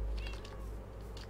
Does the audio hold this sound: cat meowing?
yes